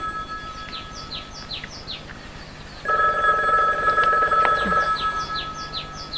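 Indoors, an old-style telephone bell rings in one rapid electric trill lasting about two seconds, fairly close, with faint bird chirps in the background and no speech.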